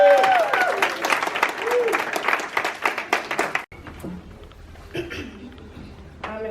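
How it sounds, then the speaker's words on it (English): An indoor audience at a library program claps to welcome a speaker, with dense, lively applause that cuts off abruptly and gives way to a quieter room with scattered sounds. "let's welcome him with a round of wonderful applause"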